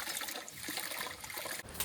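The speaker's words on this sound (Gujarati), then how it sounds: "આ પાણી ડોલ રહી તો ફટાફટ બધા કુંડામાં પાણી ભર નાખીએ" Water from a bucket trickles into flower pots, a faint steady stream of pouring that runs without a break.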